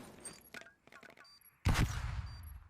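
Gunfire in a Call of Duty esports match: a loud, dense burst of shots breaks in near the end and trails off, following stretches of excited commentary from a caster who speaks before and over the shooting.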